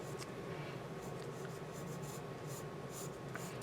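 A pencil sketching light lines on paper for a grid drawing, a soft continuous scratching with faint strokes, close but quiet against a low background hiss.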